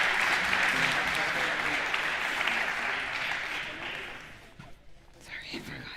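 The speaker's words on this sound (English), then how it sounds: "Let's give them a warm round of applause." A large audience claps at the IE Venture Day awards in Madrid, a dense, loud burst of applause that fades after about four seconds as a voice begins speaking.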